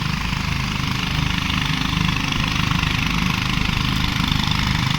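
A trawler boat engine runs on the Sangu river, a loud, steady mechanical drone that holds an even, continuous throb from start to finish with no voices.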